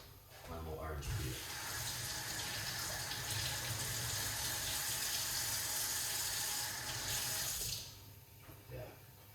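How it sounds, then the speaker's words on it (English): Orange peel being rinsed under a running kitchen tap, a steady close hiss of water hitting the sink for about seven seconds before cutting off, with a few handling clatters at the end. "Yeah, wash it off properly."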